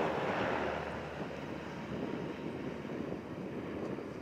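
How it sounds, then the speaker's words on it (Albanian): Two Black Hawk helicopters flying at a NATO air base in Kuçovë, heard as a steady broadband rotor and engine roar with wind buffeting, continuous and fairly distant across the whole stretch, with no talking. "Kemi fluturim të dy helikopterëve në këto momente."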